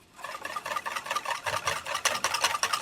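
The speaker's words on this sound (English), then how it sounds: "I'm pushing my whisk end into the corner." A whisk is worked into the corners of a pot of thick chocolate pudding, giving rapid, rhythmic scraping and swishing strokes, close and steady.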